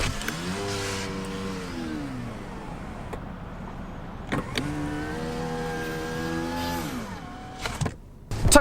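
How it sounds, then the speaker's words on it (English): Power windows on a 2019 Lexus ES run down and then up again, each pass a smooth electric motor whine that eases off and slows just before reaching the stop, heard close up with a quiet cabin and no talking. "The windows, when you roll them down or up, will actually slow themselves down just before they get to the stops"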